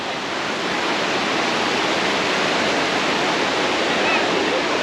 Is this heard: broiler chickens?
no